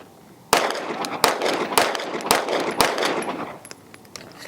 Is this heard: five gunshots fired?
yes